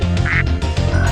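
A rubber duck springs to life in Spyro 2: Ripto's Rage in Mystic Marsh, giving loud, nasal quacks and croaks over a busy, rhythmic game music bed.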